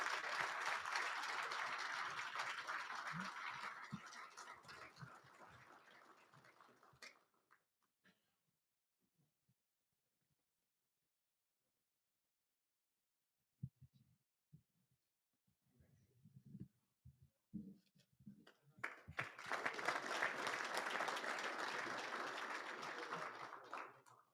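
An audience at the Wounded Warrior Leadership Awards ceremony claps steadily for several seconds before it dies away into near silence. Scattered low sounds and murmurs follow, then a second full round of applause rises toward the end.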